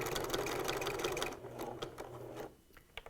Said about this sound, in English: Bring it over to your sewing machine.